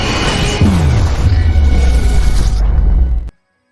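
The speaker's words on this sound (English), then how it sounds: "Here is your doomsday explosion." A doomsday explosion sound effect played on a livestream: a loud, sustained booming blast with a deep descending rumble lasting about three seconds before cutting off abruptly to silence.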